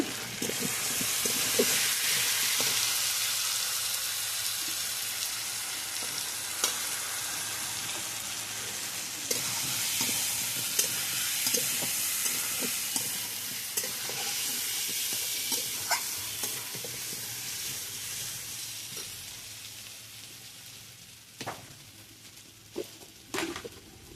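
A curry with turmeric and chili powder fries loudly in a pan, a continuous hissing sizzle overlaid with repeated scraping and tapping strokes of a spoon stirring, easing slightly toward the end.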